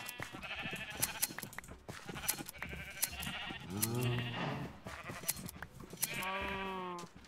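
Sheep in Minecraft bleat several times in wavering, nasal calls, mixed with frequent clicky in-game footsteps and block sounds, close and clear.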